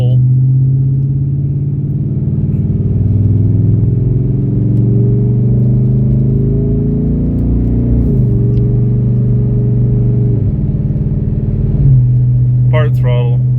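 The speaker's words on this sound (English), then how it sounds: "We'll give it a little bit of gas here and just see what it does." A tuned family car accelerates from a slow 15 mph roll, its engine giving a steady, smooth mid-pitched drone that rises through the gears with a couple of clear shifts, heard from inside the cabin.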